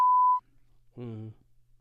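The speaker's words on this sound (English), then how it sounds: "You might want to beep that last part out, man." A steady censor beep tone sounds loud and alone for about a third of a second, covering a spoken name during a casual podcast conversation in a new office, followed by a brief stretch of talk.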